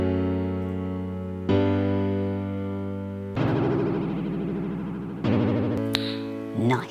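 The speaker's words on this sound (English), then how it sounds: "Okay, so we have the pianos here and they sound like this." Dry piano chords played in a music production session, sustained and ringing, changing every second or two with a few brighter struck notes near the end, clean and close.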